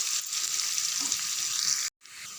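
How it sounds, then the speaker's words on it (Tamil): Small chopped onion sizzles in a pan for egg podimas, a steady close hiss that drops out for a moment and then resumes. "இது கூடவே ஒரு வெங்காயம் சின்னதாக கட் பண்ணி சேர்த்துக்குங்க. வெங்காயம் நல்லா வதங்கட்டும்."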